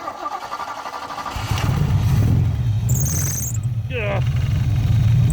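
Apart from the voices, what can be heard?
swapped V8 engine of a 1974 Ford Maverick running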